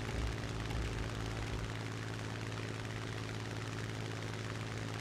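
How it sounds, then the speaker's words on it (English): A damaged aircraft engine drones on in a flight simulator battle, a continuous rough, buzzing propeller hum that runs steady and moderately loud for several seconds, with no talk. "The engine doesn't sound too good either."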